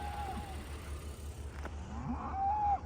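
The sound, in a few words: cows mooing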